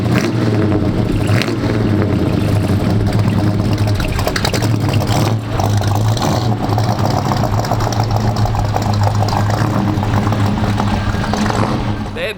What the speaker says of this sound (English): You guys want to hear the rumble of that engine?